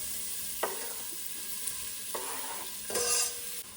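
Red and white onions fry in a pan with a steady sizzle, broken by a few sharp spoon scrapes and a louder burst of crackling near the end, with no voices.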